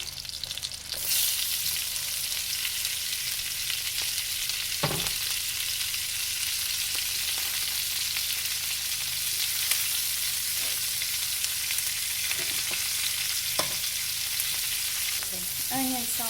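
Chopped onions sauté in a hot pan as the first step of a from-scratch sweet and sour chicken, giving a steady, close sizzle with occasional clicks and scrapes of stirring and no talking.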